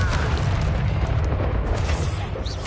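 A Confringo fire spell exploding in the Hogwarts Legacy game, a loud, heavy boom with a rumbling low-end blast that rolls on for a couple of seconds, close and dominant.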